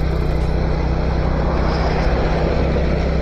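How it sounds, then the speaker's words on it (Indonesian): A Honda XRM Special Edition semi-automatic motorcycle engine drones loud and steady in gear while riding, its strained hum mixed with heavy wind rush that barely changes throughout. "Maingay na yung motor and hindi na bumibilis yung takbo ko."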